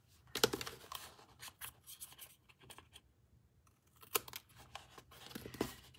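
Scissors snipping through craft material during a live crafting session, a few quick broadband cuts and rustles, clustered near the start and again toward the end, close and fairly faint with no talking.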